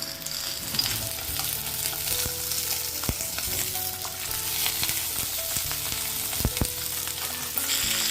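Stuffed capsicums sizzle in two spoonfuls of oil in a pan, a steady close frying crackle with a few sharp clicks and knocks of the pan, and no voices.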